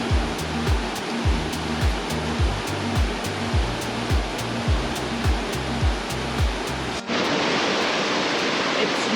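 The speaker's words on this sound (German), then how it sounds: "Wir folgen auf jeden Fall dem immer lauter werdenden Rauschen der Fälle." A hidden waterfall in an African jungle roars as a dense, continuous rush of water, loud and near, with a rhythmic thumping pattern over it for about seven seconds before the torrent carries on alone.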